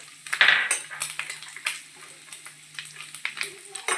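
Cashews fry in a pan for chakkera pongali, with a soft sizzle under repeated clinks and scrapes of a spoon stirring against metal, heard close up in short bursts.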